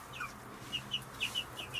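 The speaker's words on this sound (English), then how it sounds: "so those are our chickens" Backyard chickens clucking nearby, a flock of eight making a run of short, rhythmic high clucks and chirps in quick succession over a faint steady background hum.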